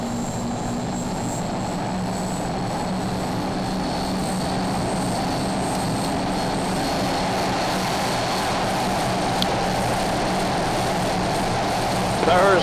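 Aircraft engines roar during a takeoff roll as a loud, unbroken drone with a steady hum that holds evenly for the whole stretch.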